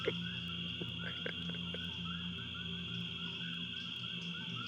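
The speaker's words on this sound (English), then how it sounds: "over the sounds of the crickets, frogs, and whatever that weird bird noise is, Xerxes, you hear a distant, like," Steady chorus of crickets trilling with frogs calling intermittently, a continuous outdoor night ambience at moderate distance.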